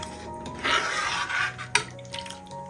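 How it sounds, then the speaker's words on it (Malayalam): A spoon stirs almond milk into sugarless payasam in a pot, giving soft scraping swishes and a sharp metallic clink, with quiet gaps between the strokes. "അപ്പോൾ ആ പാലും കൂടി കൊടുത്ത് ഒന്ന് ഇളക്കി കൊടുക്കാം"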